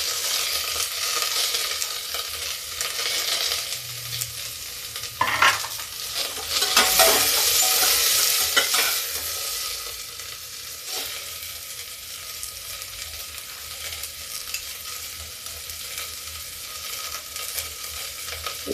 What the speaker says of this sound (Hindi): अब मैं इसी समय ये बीन्स और मटर भी हल्का सा फ्राई कर लूँगी।